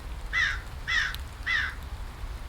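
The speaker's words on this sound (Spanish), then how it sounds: "Aquí podemos poner en el sample player, por ejemplo, unos cuervos" Crows cawing as a sample in a soundscape mix: three evenly spaced harsh caws at moderate distance over a faint low background rumble.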